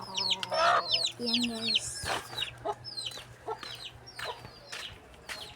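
Farmyard chickens cluck and squawk in short repeated bursts close by, with a rooster-like call mixed in and someone talking briefly over them.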